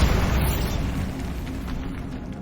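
A Bombarda blasting spell goes off in Hogwarts Legacy, a loud booming explosion right at the start that rumbles and decays into a heavy low roar for the rest of the moment.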